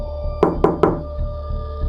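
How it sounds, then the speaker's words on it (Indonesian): Three sharp knocks sound from beneath a desk in a studio, evenly spaced and close, each a hard thud over a steady low hum, with quiet room tone afterward. "Ada 3 ketukan, mirip kayak yang dijelasin di email."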